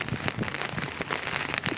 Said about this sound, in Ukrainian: Пішов дощик.